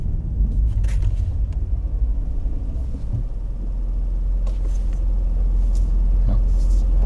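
A car rolls steadily along the narrow back lanes of a Japanese neighbourhood, its engine rumble low and continuous and close by, with faint traffic noises now and then.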